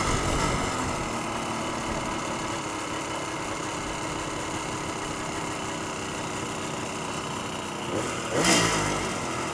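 A light motorcycle with carburetors and worn tires runs steadily near the listener, its engine droning throughout, then swelling briefly in a rev near the end.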